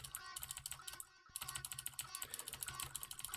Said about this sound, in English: I actually like the sound of keyboards,